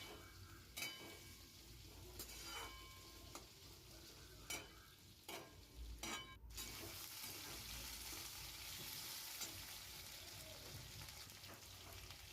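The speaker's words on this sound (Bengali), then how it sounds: "ভালো করে আলুটাকে একটু একটু সামান্য ভেজে নিতে হবে" Potatoes and mixed vegetables frying in a pan for a Bengali red amaranth chorchori, with a steady close sizzle and several sharp scraping stirs early on, then continuous hissing frying alone.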